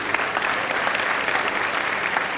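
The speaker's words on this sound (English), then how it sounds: "Big round of applause for them." Audience at a college freshers' event applauding, dense and steady clapping filling the whole stretch without talk.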